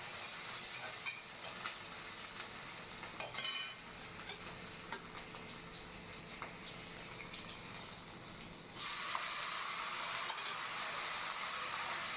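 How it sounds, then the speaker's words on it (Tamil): Vegetables and ponnanganni greens sautéing in coconut oil in a pan for keerai koottu, with a steady close sizzle and scraping stirs; the frying grows louder and brighter near the end. "இது நம்ம கோகோனட் ஆயிலில் தான் நம்ம இது வதக்குறோம்"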